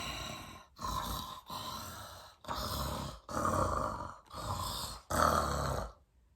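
A storytime reader voices a monster's scary panting, a series of six or seven loud, heavy, rasping breaths in a steady rhythm, close to the mic; the sound is a human voice imitating the creature.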